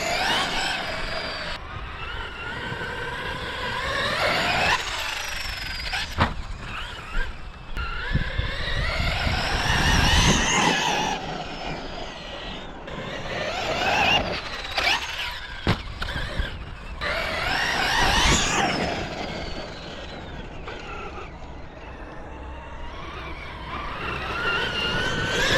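A Traxxas RC truck with an upgraded belt drive runs and jumps, its electric motor whining up and down in repeated bursts as it accelerates, lands and passes. Scattered thumps and clatters come from the landings, and no one speaks.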